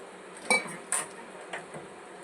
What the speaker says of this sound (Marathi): वाटण टाकूयात आता आपण मिश्रण एकजीव करून घेऊया